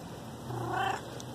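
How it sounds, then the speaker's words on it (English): A single soft, high cat meow rises and fades, close by and fairly quiet over faint background hiss. "But your meow sounds like Poppy's."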